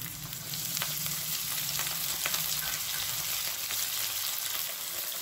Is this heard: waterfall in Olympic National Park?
no